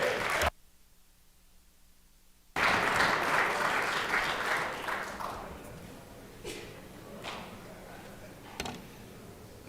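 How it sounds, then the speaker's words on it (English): Applause in a state Senate chamber after a bill passes, a burst of clapping that starts suddenly after a brief quiet gap, then tapers off with a few scattered claps and knocks. "Let's give him a round of applause."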